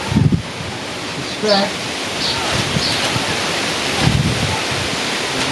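Breezy wind blowing outdoors at a tent setup, a constant broadband rush with gusty swells buffeting the microphone, while a voice speaks briefly.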